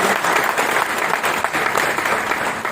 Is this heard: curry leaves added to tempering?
no